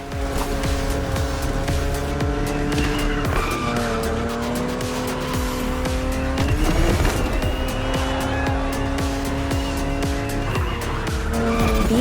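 A BMW Z roadster races hard against an opponent in The Crew Motorfest, its engine roaring loud and close with rising and falling revs, gear shifts and repeated tire squeals through corners, with no talk.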